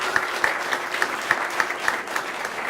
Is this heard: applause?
yes